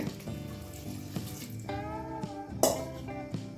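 Water splashes and gurgles as about two glasses' worth is poured into a pot of potatoes for sambar, quiet and close, in a short pour with small bursts.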